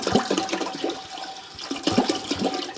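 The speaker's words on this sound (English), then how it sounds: "simply take the water and pour it into your pot" Tap water poured into a cooking pot for making bee feed, a splashing, gurgling pour of about three seconds, continuous with a brief dip in the middle, close and fairly loud.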